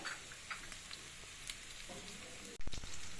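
Chicken frying in a pan, a faint steady sizzle with small pops and clicks, then a louder clatter of a utensil near the end.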